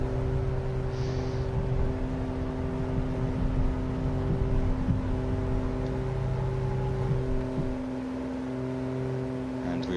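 Twin engines of a Piper Aerostar drone at full throttle during the takeoff roll in Microsoft Flight Simulator, a steady tonal hum with a slight wobble, constant and moderately loud.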